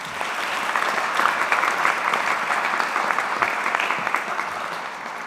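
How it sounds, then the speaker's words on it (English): Graduates clap at a University of Greenwich graduation ceremony, a broad, sustained wave of applause from a large crowd, swelling slightly and holding steady throughout. "Give yourselves a resounding round of applause."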